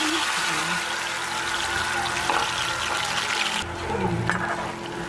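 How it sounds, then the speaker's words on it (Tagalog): Water at a rolling boil in a pot set up for steaming fish, a steady bubbling hiss that carries on throughout, with a brief shift in tone near the end. "Kumulo na, ayan, kumulo na siya guys"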